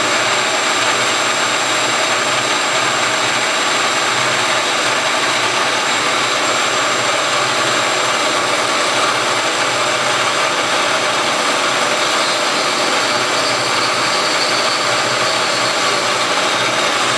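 A water pump fan spins steadily, giving a continuous loud broadband whir and hum with a faint high-pitched tone on top, holding at an even level throughout with no talking.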